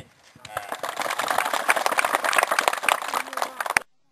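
Audience applause at a Thai school building donation ceremony in Samoeng, a dense crowd clapping steadily for over three seconds before stopping abruptly.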